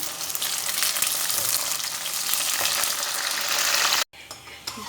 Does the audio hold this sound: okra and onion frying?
yes